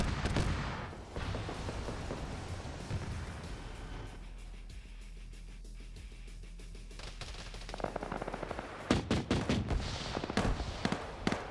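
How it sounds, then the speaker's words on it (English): Auto-cannon fire on BTR vehicles during a drone-focused video game battle: dense, rapid bursts of gunfire and explosions over a continuous low rumble, loud and sustained throughout, with sharper cracking volleys near the end. "Oh no, the BTRs are getting auto-cannon."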